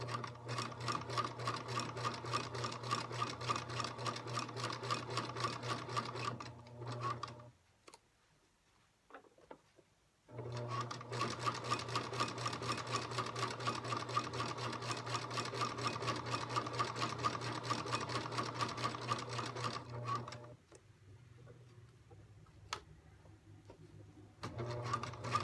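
Stitching a project bag past pins, a sewing machine runs steadily at an even, slow pace for long stretches, stopping briefly twice before starting up again, close by and alone.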